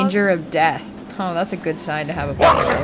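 A dog in the video game Until Dawn yips and barks repeatedly in short bursts while people talk over it, with a brief louder outburst near the end.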